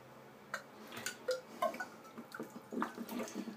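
Hot water is dumped out of a white porcelain Crown King shaving scuttle, with faint splashing, trickling and small ceramic clinks in a quiet room.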